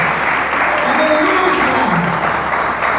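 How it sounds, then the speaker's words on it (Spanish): Congregation at a church service applauding loudly and steadily, a dense wash of clapping throughout with voices mixed in underneath. "Vamos a aplaudir fuerte."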